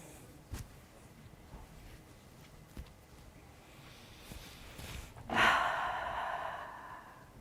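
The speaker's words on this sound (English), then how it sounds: "Long, slow, deep breaths in through your nose" A person takes a long, slow breath, inhaling through the nose and exhaling through the mouth as a drawn-out, airy whoosh near the end, preceded by quiet room sound with a few faint soft knocks.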